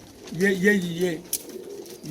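An old female pigeon coos in a soft, rolling series of throaty notes close by, followed by faint background noise and a brief click.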